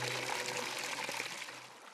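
Water from Himalayan snow melt trickling and splashing in a steady, close, continuous wash, with no voices over it.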